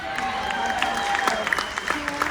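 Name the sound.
cruise ship audience applauding room stewards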